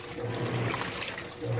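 Water pours steadily into the tub of a GE top-load washing machine during its fill cycle, a constant close rushing and splashing with a faint low hum underneath.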